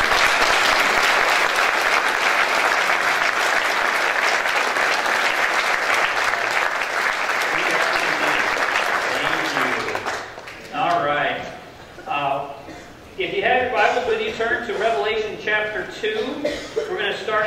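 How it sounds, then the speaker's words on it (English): A church congregation gives a round of applause in a dense, steady burst lasting about ten seconds, then it stops and people talk, with a cough and light laughter. "would you guys welcome them and give them a round of applause?"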